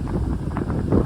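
Strong wind buffets the microphone at a beach on Gigantes Island where the sea is rough and whitecapped, producing a steady low rumbling roar with gusty surges close by and no talking.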